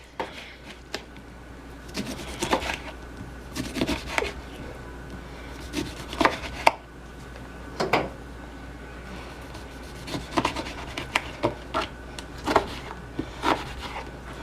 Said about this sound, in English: you're going to take your lemons and we're going to slice that up into